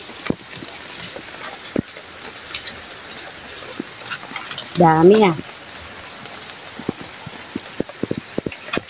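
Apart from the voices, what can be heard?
rain falling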